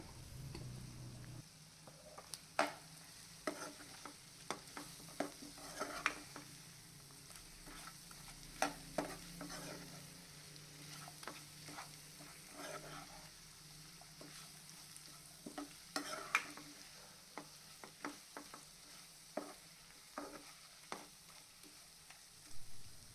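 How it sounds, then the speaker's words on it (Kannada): Chicken dry masala sizzles in a pan while a spoon stirs and scrapes it, with steady low frying noise and scattered sharp clicks of the utensil against the metal throughout. "ಎಲ್ಲ ಮಸಾಲ ಪೌಡರ್ ಹಾಕಿ ಚೆನ್ನಾಗಿ ಮಿಕ್ಸ್ ಮಾಡಿ ಒಂದು 5 ನಿಮಿಷ ಬೇಯಿಸ್ಕೊಳ್ಳಿ"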